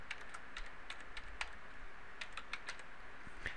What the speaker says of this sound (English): I always get off on typing my own name.